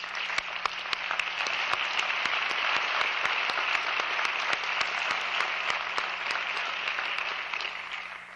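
Audience at a medical school convocation ceremony applauding, dense sustained clapping from a large crowd in a hall, steady and fairly loud throughout with sharp individual claps standing out, no talking over it.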